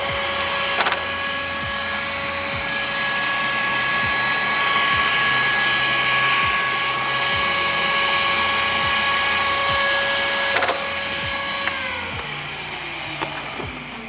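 A loud vacuum cleaner whines continuously at close range while cleaning a Porsche 996 with its bumper removed, its steady roar dipping slightly near the end, with a few faint clicks and knocks.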